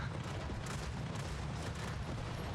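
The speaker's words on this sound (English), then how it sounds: "Now I'll just cover the whole screen with the explosions." Dense, continuous rumble of overlapping explosions filling the screen in the video game R.I.P., a steady low roar with crackling bursts throughout and no pauses.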